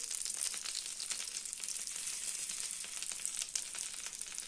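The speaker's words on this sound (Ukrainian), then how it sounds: "І це підсмажуємо." Mustard seeds frying in about 100 grams of butter give a steady, crackling sizzle with dense, fine pops throughout, close and constant with no voices.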